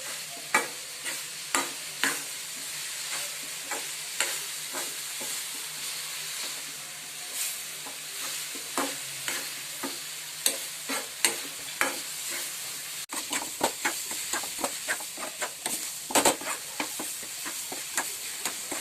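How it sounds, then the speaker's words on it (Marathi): Modak filling of jaggery stirred and fried in a pan on low flame, a soft steady sizzle punctuated by regular scraping strokes of a spoon, close and fairly quiet. "सारण मंद आचेवर लालसर परतून घ्या, जेणेकरून गूळ वितळून जाईल"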